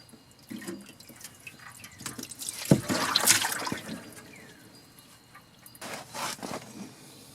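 Automatic transmission fluid drains from a car's removed transmission pan into a catch basin, a close, faint trickle and splash that swells to a louder pour midway and again near the end, with no talking.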